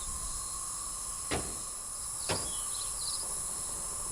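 A door opening or closing in the Channelwood Age of the video game Myst gives two sharp clunks about a second apart over a steady hissing, insect-like ambience of water and woods.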